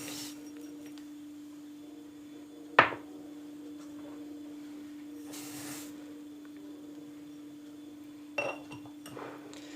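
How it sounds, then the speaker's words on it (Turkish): Eggs and sugar are whisked in a bowl: a steady, quiet hum runs throughout, broken by a couple of sharp clinks against the bowl. "Bunları da güzelce çırpıyoruz."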